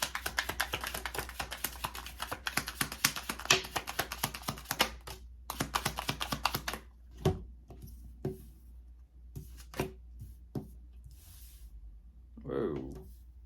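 Tarot cards taken from their box and handled, giving a rapid run of soft slaps and riffling clicks over the first seven seconds, then scattered light taps and shuffles with a brief breathy voice near the end.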